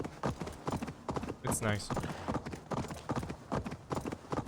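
Horse hooves clip-clop steadily in a video game set in England, running under almost continuous talk from a player.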